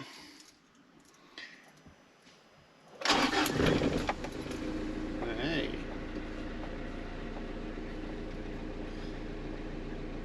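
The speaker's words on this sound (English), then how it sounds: "Start the engine up." A truck engine cranks and catches after a quiet pause, bursting into a loud start and then settling into a steady, close idle that runs to the end.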